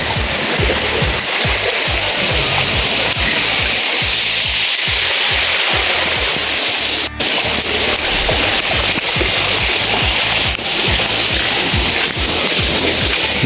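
Heavy rainwater rushes steadily along a flooded street in Old Dhaka on a rainy day, a loud, continuous, close wash of flowing water with no pauses.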